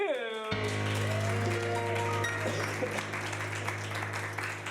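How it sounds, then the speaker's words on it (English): An audience at an improv comedy show applauds a cast member as the host introduces them, a dense, steady wash of clapping under a low sustained hum, following a brief tonal sound at the start. "give a big round of applause to Canoe"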